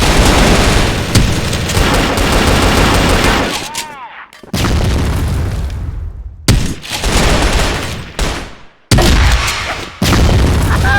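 Dense, loud gunfire in the video game Crossfire during a match, sustained automatic bursts and booms, broken by brief silent gaps, with an occasional voice mixed in.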